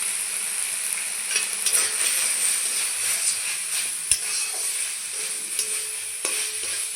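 Turmeric, cumin and chili powder stirred in a sizzling pan, a continuous close hiss of frying broken by scraping spoon strokes and a sharp clack near the middle.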